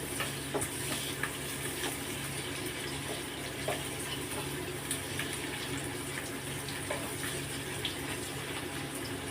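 Onions frying in a pan for a Bengali whole lote fish jhal, a dense continuous sizzle with faint crackles and light stirring ticks, close and fairly loud, with no voices.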